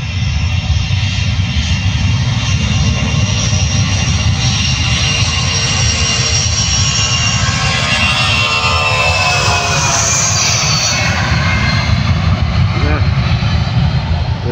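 A Royal Australian Air Force military jet roars through takeoff, its engine a loud, continuous broadband rumble that holds steady throughout, with a faint voice briefly underneath.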